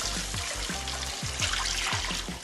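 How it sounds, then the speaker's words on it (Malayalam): Water pours onto rice for a fish biryani, a steady splashing trickle with soft rhythmic knocks beneath, fairly quiet and continuous with no talk. "അപ്പാട് വെള്ളം ഒഴിക്കാം"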